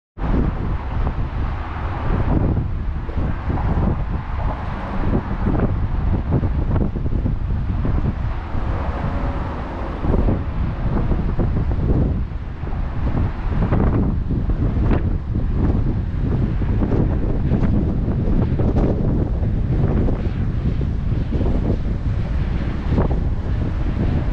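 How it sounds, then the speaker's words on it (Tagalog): Strong wind roars continuously across the microphone, loud and buffeting throughout, with a faint wash of water or surf beneath it. "Medyo malakas ng hangin."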